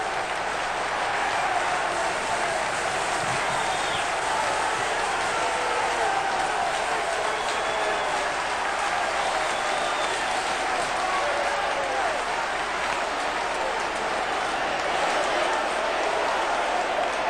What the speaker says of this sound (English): the crowd's gone wild here at Griffin Park